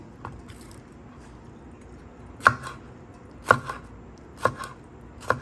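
Knife chopping shrimp into round slices for a spicy shrimp dish, four sharp separate strokes on a cutting board spaced about a second apart, close and clear against quiet background hiss.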